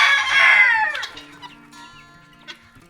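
A rooster crows loudly up close, its long call falling away, followed by a few scattered soft clucks from nearby hens.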